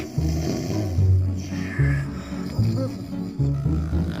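Heavy, rhythmic snoring repeats in slow, deep rasping breaths, loud and close, with several cycles in a row and no talking.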